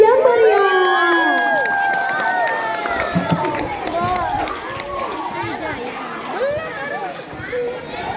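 Students and audience at an Indonesian madrasah school showcase event shout and cheer loudly, a crowd of excited voices, whoops and chatter with occasional claps, lively and close throughout.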